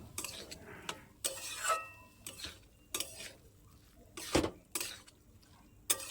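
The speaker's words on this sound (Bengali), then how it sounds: "সবগুলোকে এইভাবে মিশিয়ে নিতে হবে।" Boiled green mung beans being stirred and mixed with spices in a pan, with intermittent scraping and clinking of a spoon against the pan in short separate bursts amid quiet pauses.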